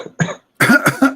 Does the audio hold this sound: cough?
yes